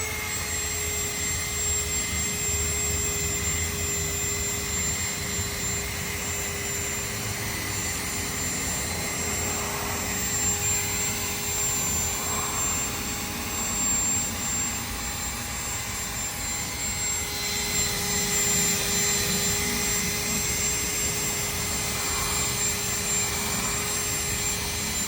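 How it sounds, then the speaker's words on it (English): Buffing wheel stripping paint from Toyota Supra MK5 wheels, a steady loud high-pitched whir and rough grinding hum that holds on without pause, swelling slightly in places, with no talking. "I have my buffing wheel right here."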